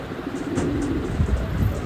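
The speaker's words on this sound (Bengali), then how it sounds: "দেখেন কি করতেছে আমার কবুতর ডাক ডাকগুলো অনেক ভালো লাগে ডাকতেছে" Pigeons coo softly on a home rooftop in the afternoon, with low, repeated throaty calls over faint outdoor background noise.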